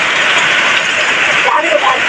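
Heavy rain falls in a village during the farming season, a dense, loud and steady hiss of downpour running throughout with no pauses.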